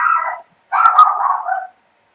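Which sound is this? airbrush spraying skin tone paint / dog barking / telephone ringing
dog barking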